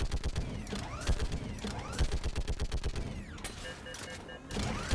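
Rapid bursts of turret gunfire in the Mass Effect video game, loud rhythmic volleys with mechanical creaking and whirring between them.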